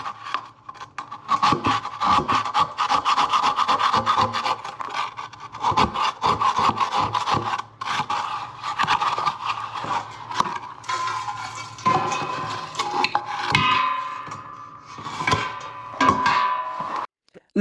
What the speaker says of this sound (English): the trap is absolutely solid, so we're going to have to do a bit of scraping again